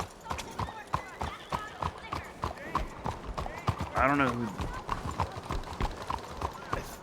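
A single horse clip-clops at a steady trot in Red Dead Redemption 2, close and rhythmic, with a short whinny midway and someone talking over the hoofbeats.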